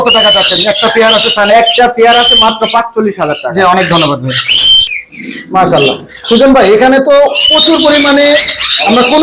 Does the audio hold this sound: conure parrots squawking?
yes